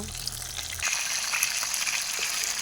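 Fish fries in a pan with a steady, close hiss and crackle of hot oil, with soft scraping as the fish is turned partway through.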